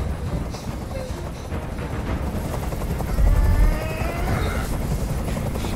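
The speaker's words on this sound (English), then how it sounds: "I can't stand that noise anymore. Tell that helicopter to get out of here." Helicopter in Detroit: Become Human, a steady rotor drone heard continuously at moderate loudness beneath scattered faint clatter and a brief low rumble, with no talk.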